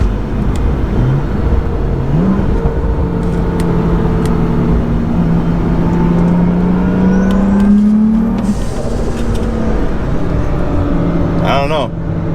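A BMW 435i fitted with a Turbosmart blow-off valve, its engine droning loudly and steadily from inside the car, pitch sliding up and down with revs and a brief hissing release near the end, while a person talks throughout.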